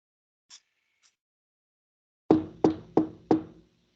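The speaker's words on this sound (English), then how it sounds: "A knock at the door." Four loud, evenly spaced knocks on a door ring out close by, each with a short resonant decay, after two faint light taps earlier on.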